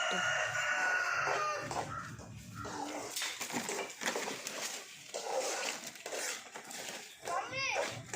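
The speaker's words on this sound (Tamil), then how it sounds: "என்ன கோழி கோழி" Chickens cluck and a rooster crows nearby while people, including a child, chatter over the birds.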